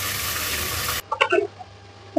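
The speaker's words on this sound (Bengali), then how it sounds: "একটু পানি দিয়ে দিব।" Water poured into frying ginger, garlic and onion spice paste, giving a loud rushing hiss for about a second that drops away, followed by a few quiet clinks and a faint bubbling sizzle.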